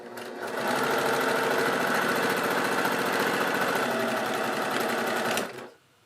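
A sewing machine stitches the collar of a men's sport shirt, starting up and running at a steady, loud, close pace for about five seconds before winding down to a stop.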